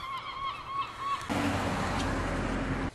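Gulls call repeatedly from near a chimney pot on a Dorset coastal walk, their honking cries fairly faint, before a louder rush of wind or handling noise takes over.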